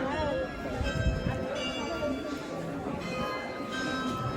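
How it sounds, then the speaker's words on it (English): Bells ring steadily with sustained tonal overtones behind a busy, noisy outdoor crowd at the Frankfurt Christmas Market at night, with voices chattering throughout. "The bells are ringing."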